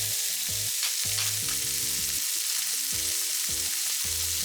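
Chicken tsukune meatballs sizzle steadily in a frying pan just after being turned, a constant close hiss with melodic background music underneath.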